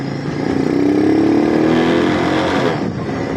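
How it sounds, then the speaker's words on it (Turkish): A Kuba Çirişral 50 cc motorcycle engine revs up under acceleration, a steady loud rising drone that holds for about three seconds before easing slightly. "Tekrar gaza yükleneceğim"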